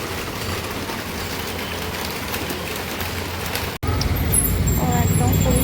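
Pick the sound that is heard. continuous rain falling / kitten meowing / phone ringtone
continuous rain falling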